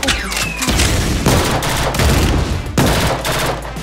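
Support-fire gunshots in the video game Blue Archive: loud, close bursts of rapid gunfire in several volleys separated by brief gaps, with no voices.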